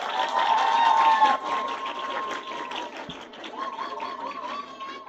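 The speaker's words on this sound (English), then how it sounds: "So a round of applause to all of you" An audience at the close of a women in media and communications panel discussion claps and cheers in a broad, moderately loud wash that gradually thins, with voices and tonal sounds mixed in throughout.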